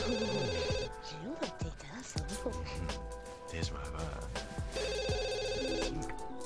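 A telephone rings in The Sims 2, bursts of electronic ringing at the start and again near the end, mixed with game music and sound effects while someone talks over it.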